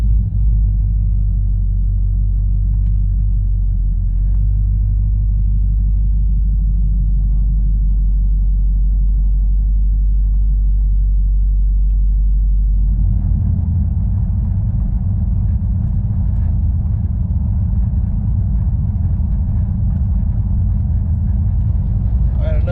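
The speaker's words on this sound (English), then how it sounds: "So we're gonna let it warm up for a second, then we're gonna take it out." A 1968 Dodge Charger with a swapped 5.7 Hemi V8 idles while warming up, a steady deep rumble close by that shifts to a slightly rougher, busier idle partway through, running continuously with no speech.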